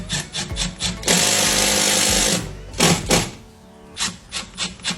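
A power tool driving screws to mount a Tesla Wall Connector bracket, with short bursts and one longer loud run of whirring, separated by brief quieter gaps of handling noise.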